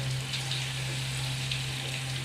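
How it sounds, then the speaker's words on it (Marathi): Sweet Saraswat-style mulake dumplings frying in ghee, a soft steady bubbling sizzle close up, even and continuous with a low hum underneath. "त्या तुपात हे तळून काढायचे आहेत मुळकं आता मी तळायला घेते"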